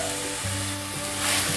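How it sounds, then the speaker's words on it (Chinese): Carrots are stir-fried with enoki mushrooms in hot oil in a flat-bottomed wok, a loud, continuous close sizzle with faint stirring scrapes and a slight swell toward the end. "现在放入红萝卜"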